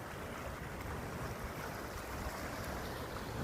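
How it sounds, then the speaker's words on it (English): A creek flows in winter with a broad, steady rushing wash of water that continues without a break, heard fairly faint and at a distance, with no talking. "Here we got a nice creek flowing good."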